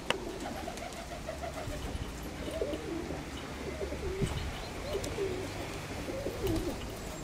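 Pigeons coo repeatedly in soft, rhythmic phrases, with other bird calls around them, against steady outdoor noise on a gusty, windy day.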